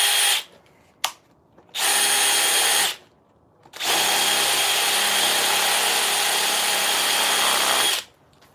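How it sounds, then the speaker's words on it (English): Power drill boring into a log for a carved teddy bear with a dull 3/4 inch paddle bit, loud close whirring bursts: two short runs, a gap, then one long sustained run before it stops. "that is a very dull 3/4 inch paddle bit"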